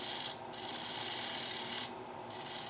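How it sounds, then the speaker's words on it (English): A woodturning tool shear-scrapes across the side of a spinning wooden utility platter on a lathe, making a close, steady rasping hiss that briefly drops in intensity twice as the tool lifts, with no talk. "Just a little shear scraping across the side."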